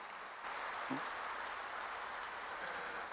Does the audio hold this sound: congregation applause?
yes